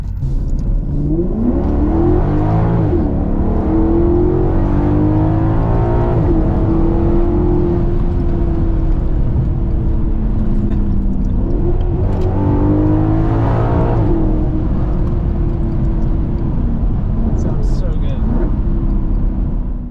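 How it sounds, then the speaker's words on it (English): A Ferrari-derived V8 engine in a Maserati GranTurismo revs loudly and repeatedly, its pitch climbing and falling in strong sweeps, close and dominant throughout. "The Ferrari-derived V8 does not get better than that."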